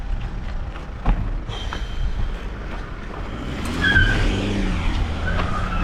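A car driving through a red light on a UK road in Ashford, England, heard from the roadside: steady nearby traffic rumble with a vehicle passing and a rising whine, moderately loud and alone.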